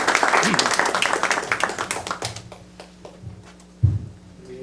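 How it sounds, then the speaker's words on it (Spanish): An audience at a book presentation applauds the author, dense clapping at first that thins and fades over a few seconds, followed by a faint voice and low rustling. "Un aplauso, por favor, muy caluroso a usted por esta su obra tan magnífica"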